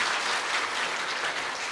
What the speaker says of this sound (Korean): 근데 박수는 왜 치시는 거예요?